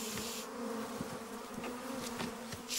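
Honey bees buzz around a hive being hosed with cold water by beekeeping firemen, a close, sustained droning hum with a few brief louder passes of individual bees.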